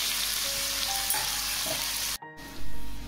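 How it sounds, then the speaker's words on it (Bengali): Sliced onions fry in hot oil for a chicken curry, giving a steady, dense sizzle with a brief cutout near the end before a louder bubbling resumes. "একটু লালচে লালচে করে পেঁয়াজটা ভেজে নেব।"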